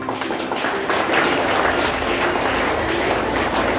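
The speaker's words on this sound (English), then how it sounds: "Please clap for them." Students clapping at a school prize distribution, a dense burst of applause that carries on evenly for several seconds, fairly close and loud, with no speech over it.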